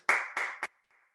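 A small audience at the 2020 President's Award for Leadership ceremony claps for the award winners' families, three short bursts of applause that stop quickly, close and fairly clear.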